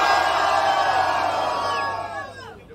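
An audience at a street rap battle cheers and shouts for the rapper Lili. Massed voices roar loudly, then taper off and thin out near the end, leaving a few scattered whoops.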